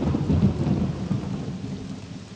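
Loud rain pouring in modded Morrowind, a thick continuous low roar of downpour with rumbling undertones, steady and close, with no talking.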